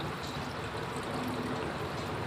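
Water from a glass pours steadily into a pot of raw mango murabba (sweet-sour jam with sugar), a continuous close splashing stream with no talk.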